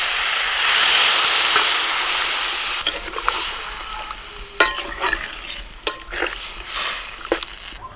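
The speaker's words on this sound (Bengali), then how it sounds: "এবার জল দেবো।" Water is poured into a hot pan of sizzling chicken and spice masala, a loud hiss fading into bubbling, followed by several sharp stirring scrapes and clinks.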